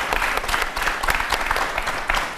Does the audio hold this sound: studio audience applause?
yes